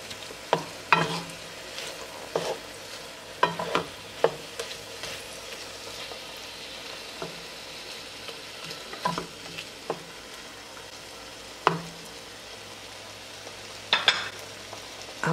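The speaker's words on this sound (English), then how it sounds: "So I place my chicken in my frying pan. I have a little bit of oil." Steady sizzle of salted and peppered chicken frying in a little oil in a pan, with occasional scraping and clinking of a utensil stirring, close and moderately loud.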